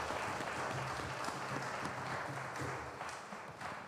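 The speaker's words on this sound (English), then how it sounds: "let's give them a big round of applause." A congregation applauds the choir and dancers at a carol service, a faint, steady patter of many hands spread across a large space, with a low murmur beneath.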